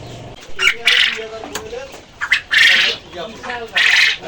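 Quails at a quail farm give repeated shrill squawking calls in several bursts, fairly close, with a voice speaking between and under them.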